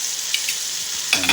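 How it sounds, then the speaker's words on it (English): Steaks sauté in a Power XL cooker with a steady, fairly loud sizzling hiss, then a sharper burst of crackling near the end, heard up close with nobody talking. "I'm gonna let it just saute for a minute"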